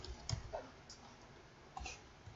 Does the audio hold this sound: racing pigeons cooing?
no